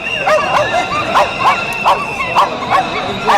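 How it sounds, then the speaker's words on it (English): Dogs at a street protest in Bulgaria bark and yip in quick repeated bursts about every third of a second, loud and close, over a faint outdoor background. "Let's hear from the dogs."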